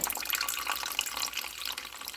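Beer poured into a roaster beside a pork loin for slow-roasted carnitas, a short close splashing trickle of liquid with bubbly spatter that eases off toward the end.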